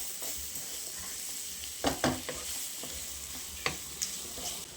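Plantain and dates sautéed with spice powders in a pan, a steady close sizzle broken by a few sharp scraping stirs and clinks of a utensil.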